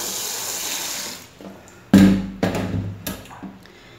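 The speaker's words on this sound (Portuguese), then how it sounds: "Vou colocar a água" Water from a tap pours into a bowl of acerola cherries, a loud hissing rush that breaks into splashy surges and gurgling bursts as the stream shifts, close by with no talk.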